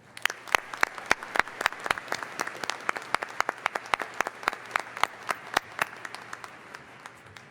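A large audience at a university spring commencement ceremony applauds a musical performance, dense sustained clapping with sharp individual claps standing out, steady throughout at moderate distance.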